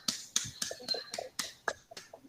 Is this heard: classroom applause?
yes